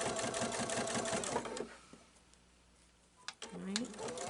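A sewing machine stitches a pumpkin pillow with a rapid, close whirring run that stops midway, then briefly resumes, with a voice talking over parts of it.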